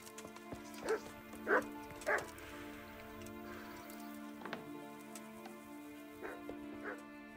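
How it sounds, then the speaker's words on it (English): A dog barks in short bursts during a Kingdom Come: Deliverance hare hunt, a few separate yaps spread across the clip over a steady humming game background, moderately near but not loud. "Yeah, dog."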